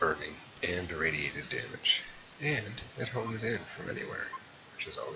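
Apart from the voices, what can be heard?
No distinct noise like a dog, phone or traffic.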